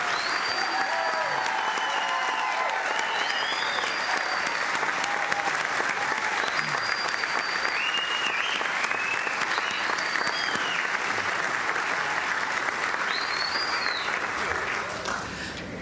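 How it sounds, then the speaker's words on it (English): A ceremony audience applauds the Ohio Veterans Hall of Fame class of 2016, with dense, steady clapping filling the hall for about sixteen seconds and a few voices and whistles rising through it, tapering slightly at the very end. "Let's join in another round of applause for this year's class."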